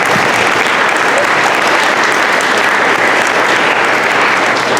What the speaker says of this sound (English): So give another round of applause for the percussionists.